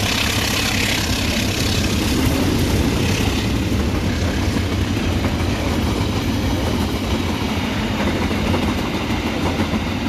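The Manahan train with stainless steel carriages rumbles steadily past close by over the Kalijali bridge, with rhythmic clatter of wheels over the track and a continuous low roar throughout.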